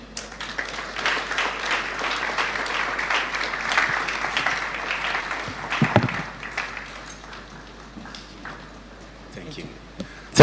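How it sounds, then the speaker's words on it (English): Conference audience applauding, a steady wash of clapping that fades toward the end, with a voice speaking over the tail. "Please, a round of applause for her."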